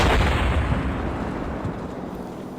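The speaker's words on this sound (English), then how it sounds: "As I draw first blood, the SS Hitler Youth start bringing in a barrage" An artillery barrage in Combat Mission Normandy booms with a heavy, rumbling blast that slowly decays, deep and loud at first and fading over a couple of seconds.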